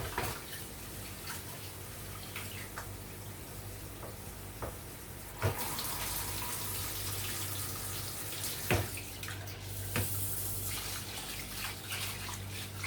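Jasmine rice being washed in water at a sink: steady running, splashing water throughout, punctuated by a few sharp knocks and clinks of the pot, no talking.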